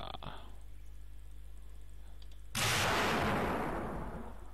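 Rocket fired from a launch rack in the Gmod XCF game: a sudden loud blast at about two and a half seconds that decays into a long hissing rush, after a quiet hum and a few faint clicks.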